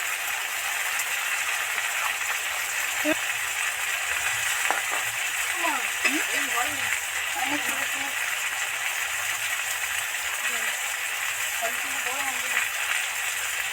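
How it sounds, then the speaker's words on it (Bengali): Chili and bay leaves frying in oil make a steady, fairly loud hiss throughout, with a voice speaking over it. "একটা সুন্দর লঙ্কা দু টুকরো করে তেলের মধ্যে দিয়ে দিলাম"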